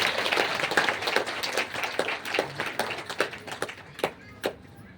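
Applause at a family ceremony as the family priest is invited forward: a run of crisp, overlapping hand claps, fairly close, thinning into a few scattered claps near the end.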